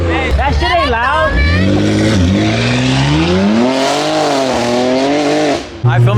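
A car with a 2JZ engine and a big turbo revs hard. The engine note climbs and falls in loud, rising sweeps close by, then cuts off briefly near the end.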